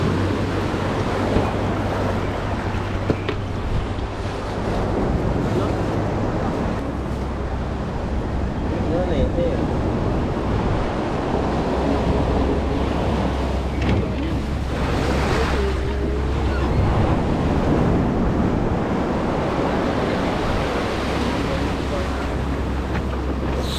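A small boat pitches on large sea waves near Punta Fuego, with continuous surf wash and gusty wind buffeting the microphone, plus faint voices in the background.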